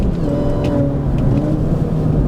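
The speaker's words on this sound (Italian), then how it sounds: "Sentite il cambio" Mini Cooper JCW R53 GP cabin, engine droning steadily and loudly close by through a gear change, with a faint mechanical shift sound under the continuous hum.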